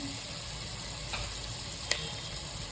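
Tomato and onion frying in a pan for crab sukka, a steady low sizzle with soft stirring scrapes and one brief clink near the end, no voices.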